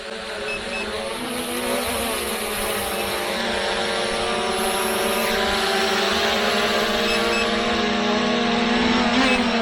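Two drones, a Hubsan Zino 2 and a FIMI X8, fly together outdoors, giving a steady, loud, high-pitched whine of propellers and motors that builds slightly and holds throughout without talk.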